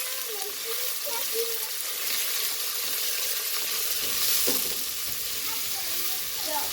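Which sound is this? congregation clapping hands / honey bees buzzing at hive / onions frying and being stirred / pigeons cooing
onions frying and being stirred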